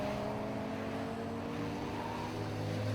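Porsche race cars sweep through turn 1 toward the banking at Anglesey Coastal circuit, a steady blended engine drone heard from a distance, fairly faint and even throughout.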